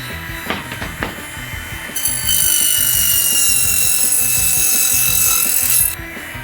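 A mini table saw whines and buzzes as it cuts through balsa wood, rising to a loud steady high-pitched grind after a few rough starting bursts.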